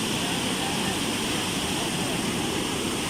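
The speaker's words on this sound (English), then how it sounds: "So this waterfall, we actually get to walk behind it through the cave bit." Baizhang Waterfall in China, heard from the cave behind the falling water, makes a dense, loud and unbroken roar that fills the whole clip.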